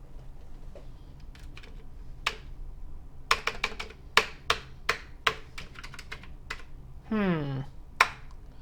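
Keys clack on a Commodore VIC-20 computer keyboard in short bursts of crisp, close taps that are irregularly spaced, with a brief squeaky whine near the end.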